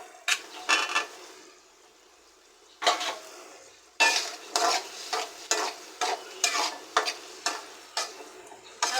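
Potatoes are stirred with spices in a frying pan, giving rhythmic metallic scrapes and clanks from a spatula in repeated bursts over a faint sizzle, with a brief quieter pause partway through.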